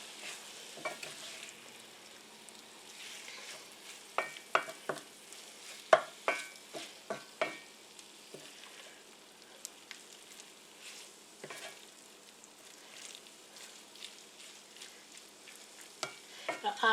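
A spoon scrapes and knocks through a melted cheesy hamburger mixture in a frying pan, quiet irregular stirring taps over a low gentle sizzle, with no one talking.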